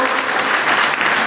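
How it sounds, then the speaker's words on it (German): Crowd at a football club's final home match of the 2014-2015 season gives a burst of dense, loud applause for the departing team members. "Vielleicht nochmal einen großen Applaus für die Leute"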